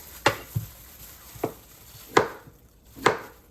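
A knife slices potatoes on a cutting board, held by a hand in gloves, making about six sharp, irregularly spaced chopping thuds against a quiet background.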